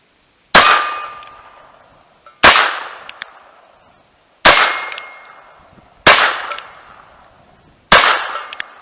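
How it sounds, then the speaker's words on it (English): Five sharp handgun shots ring out one by one at roughly even intervals, each loud and close with a brief metallic ringing decay, fired from a gun drawn quickly from a pocket. "let's see how fast I can get this thing out and put some kind of decent amount of shots on target"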